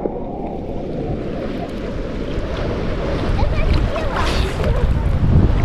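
Surf rolling onto a Black Sea beach at Blagoveshchenskaya near Anapa just after a storm, with murky water, a steady broadband wash of waves that builds slightly louder toward the end, mixed with wind buffeting the microphone.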